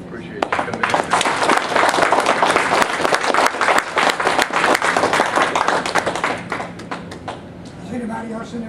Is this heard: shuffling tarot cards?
no